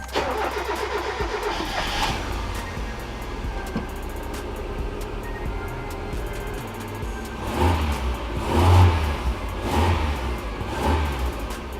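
A turbocharged Mazda Miata engine cranks and starts, then idles with a steady low rumble that rises in a few revving swells toward the end, heard close and without talk.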